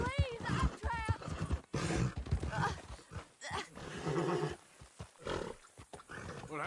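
A horse in the Red Dead Redemption 2 video game whinnies and its hooves clop, mixed with overlapping voices that talk throughout in uneven bursts.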